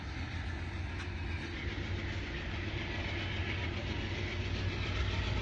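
An Amtrak P42 diesel locomotive, over twenty years old, hauling the City of New Orleans passenger train, a steady loud engine roar with rumbling low end that does not let up.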